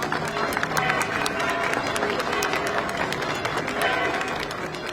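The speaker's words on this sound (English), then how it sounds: "As the coffins arrived, there was a ripple of applause outside the Igreja Matriz de Gondomar." Applause ripples through a crowd gathered outside the Igreja Matriz de Gondomar church as coffins arrive, scattered, moderately distant clapping mixed with crowd murmur, sustained throughout.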